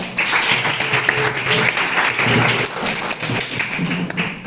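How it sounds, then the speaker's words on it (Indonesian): A school class applauds together in a classroom, a dense, steady patter of clapping that fades slightly toward the end. "Baik, beri tepuk tangan kita"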